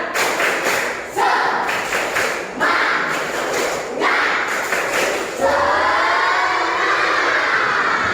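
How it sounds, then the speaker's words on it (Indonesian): A classroom of students doing a rhythmic spirit clap, bursts of claps and thumps in repeated patterns with shouted group voices, loud and close, ending in a sustained chant. "kita tepuk semangat dulu"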